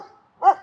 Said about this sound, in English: Ooh, there's a real bark. You hear that with puppy, huh?